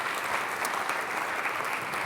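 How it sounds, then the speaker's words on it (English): An audience at a magic talk applauds volunteers standing at the front, a steady, even patter of many hands clapping without pause. "Give them a round of applause."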